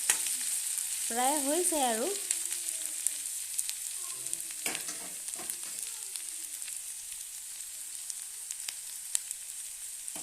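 Eggplant and tomato with ginger and garlic fry in a pan, a soft, steady sizzle under intermittent stirring scrapes, while a voice speaks briefly near the start.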